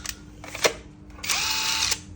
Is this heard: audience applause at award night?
no